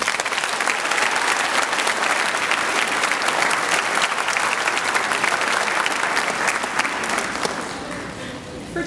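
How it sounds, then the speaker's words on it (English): Big round of applause from the audience at a 7th and 8th grade spring orchestra concert, loud and continuous crowd clapping that holds steady and tapers slightly toward the end. "Can we have a big round of applause for these guys?"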